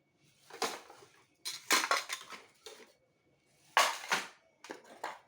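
Plates being handled clatter and clink in several short, sharp bursts of ceramic and metal contact, with quiet pauses between them.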